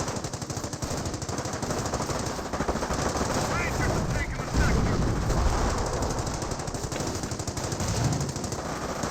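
Rapid machine-gun bursts and scattered gunshots from a Company of Heroes 1 match, dense and continuous over a busy battlefield din with commentary talk running underneath throughout.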